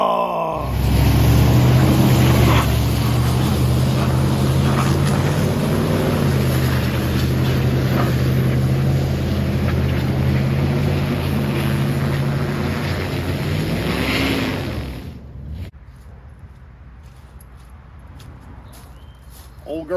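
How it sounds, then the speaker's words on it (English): A Dodge truck grinds through deep mud in second gear, its engine droning loud and steady as the tires spin for about fifteen seconds before the roar cuts off abruptly, leaving quiet background noise. "Old girl caught second gear spinning them tires."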